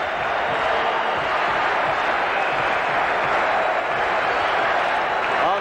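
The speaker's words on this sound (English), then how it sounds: "They're up on their feet now, cheering their Flames on now with 4:16 on the clock." A hockey arena crowd of Atlanta Flames fans stands and cheers during a 1979 Stanley Cup playoff game. The roar is broad and sustained, with a steady wash of voices and clapping echoing through the building.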